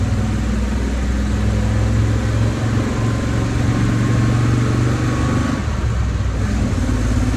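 A 1967 Chevrolet C30 truck cruising in fifth gear on blacktop, its engine a steady, loud, continuous drone with road rumble and a slight dip in tone near the end.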